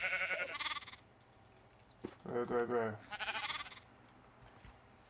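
Baby sheep bleat in a farming video game, a few short wavering calls mixed with chimes and game effects while someone talks over them.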